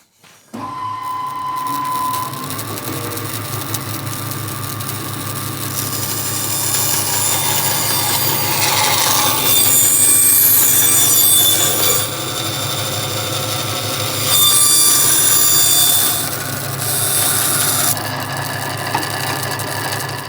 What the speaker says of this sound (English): So I'm going to run the bandsaw now